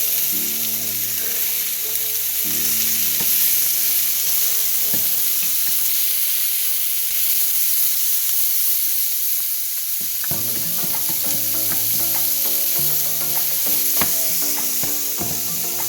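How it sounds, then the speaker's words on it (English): Fish and vegetables fry in a pan and are stirred the whole time, giving a loud, steady sizzle with scraping and clattering from the utensil. There is a short quieter lull near the middle, and no one speaks. "Now I'm gonna stir it."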